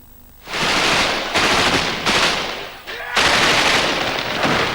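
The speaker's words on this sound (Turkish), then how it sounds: "Peluje'de silah sesleri susmuyor." Sustained bursts of heavy gunfire during the 2004 American assault on Fallujah, loud and dense, rattling in long volleys with brief gaps between them.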